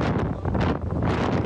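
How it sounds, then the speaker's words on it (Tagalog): Strong wind sweeps through Surigao amid big waves, roaring loud and close as gusts buffet the microphone in continuous rumbling surges with no talk. "Malakas na hangin at malalaking alon naman ang naobserbahan sa Surigao."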